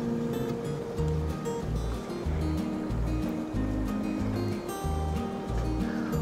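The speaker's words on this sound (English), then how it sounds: "And now the machine is adding the water. Look at that, it's spinning all around." A laundromat washing machine fills with water and churns its load, a steady rushing slosh with a rhythmic low thumping from the rotating drum, loud and continuous throughout.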